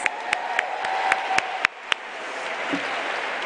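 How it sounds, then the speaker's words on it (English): Applause for Governor Scott Walker at a town hall event, scattered claps with several loud sharp individual hits over a crowd bed, fading out after a couple of seconds. "Let's give him a round of applause."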